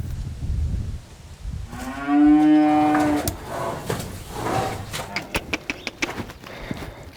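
Cattle and calves on an American farm let out a long, loud moo nearby, followed by a shorter, fainter low, while people talk and footsteps and shuffling move through the barn.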